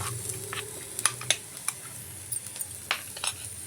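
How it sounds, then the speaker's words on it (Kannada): Ground spice powder fries in a pan with a low steady sizzle, punctuated by repeated sharp clicks and scrapes of a utensil stirring against the pan. "ಹಸಿ ಸ್ಮೆಲ್ ಹೋಗೋವರೆಗೂ ನಾನು ಫ್ರೈ ಮಾಡ್ಕೊಳ್ತೀನಿ."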